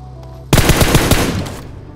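A sudden burst of rapid automatic video game gunfire, about ten sharp shots in quick succession, then a trailing echo fading out.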